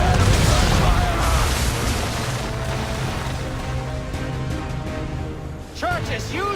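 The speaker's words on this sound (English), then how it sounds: "Ready our weapons! Enemy gunfire!" Gunfire from enemy ships in a naval battle in Assassin's Creed 3, a dense, continuous barrage of booming cannon blasts and bursts layered under music and shouted voices throughout.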